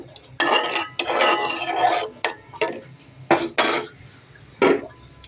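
Vegetables go into a cooking pot with chana dal, followed by loud, close scraping and clanking as a utensil stirs against the pot in several separate bursts with short pauses between.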